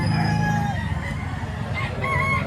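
A rooster crows loudly and chickens cluck close by at a fowl market in Lipa, Batangas, with steady market bustle behind.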